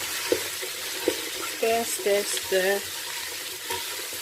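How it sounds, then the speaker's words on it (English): Celery and carrots fry in a pan with a steady sizzle, broken by a few sharp utensil clicks and bursts of stirring, close up; brief voiced sounds come through midway. "Fry it up a bit, give it a stir"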